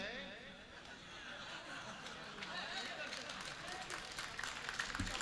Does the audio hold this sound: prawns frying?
no